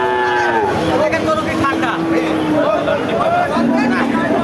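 A pregnant cow lows at a busy cattle market, with long, drawn-out moos rising over constant crowd chatter and nearby voices in a loud, bustling setting.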